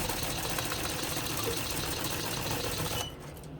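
An embroidery machine stitches a trucker hat at low speed, around 480 RPM, with a steady, rapid mechanical clatter and hum, close and continuous, then cuts out near the end.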